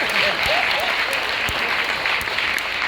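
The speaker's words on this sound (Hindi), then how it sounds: "जबरदस्त तालियां इनके लिए" A crowd at an M I Lifestyle business gathering breaks into steady, enthusiastic applause, a continuous wash of many hands clapping with a few sharper individual claps standing out.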